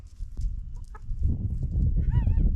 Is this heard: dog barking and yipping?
no